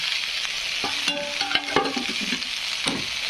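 Okra and peanuts fry in a pan while a spatula stirs them, scraping and clinking a few times against the pan over a constant close sizzle.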